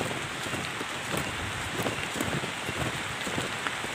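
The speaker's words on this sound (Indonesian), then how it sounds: "dan ini sampai di sini juga hujan nih" Heavy rain pours down steadily during a rough, extreme trip toward an oil palm plantation, a dense continuous hiss with scattered drop patters and some wind noise, with no talking.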